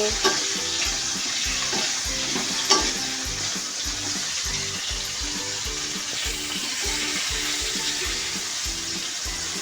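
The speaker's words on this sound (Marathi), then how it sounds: "छान परतून द्यायचं तेलात" Sliced bitter gourd sautéing in oil with salt and turmeric makes a loud, continuous sizzle close up, with a steady rhythmic scraping of stirring underneath and an occasional sharp clink.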